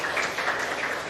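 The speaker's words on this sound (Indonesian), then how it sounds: "Tepuk tangan untuk kita semua." Applause from an audience at a presidential launch event for digital learning, steady and continuous for the whole short moment, fairly dense clapping heard from a moderate distance.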